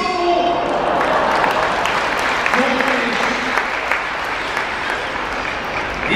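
Sustained crowd applause around a sumo ring, a dense, even clatter of clapping that fills the whole stretch, with a voice calling out over it.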